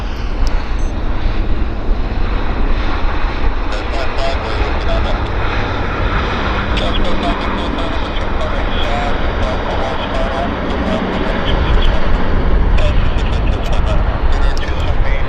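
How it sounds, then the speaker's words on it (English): A WestJet airliner taxis at Vancouver airport, its jet engines a loud, steady broadband roar that swells slightly toward the end, with talk heard over it. "we got a WestJet rolling out here"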